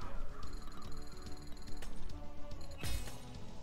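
Bird cawing as part of an online slot game bonus round, crow-like caws mixed with jingling game music and a sudden crash near the end.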